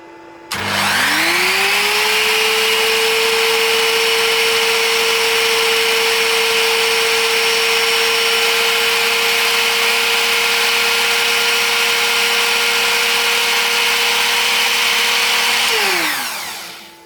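CNC spindle motor starting up and winding to about 14,000 RPM, a loud steady high whine with a rising pitch at first, holding constant, then spinning down at the end.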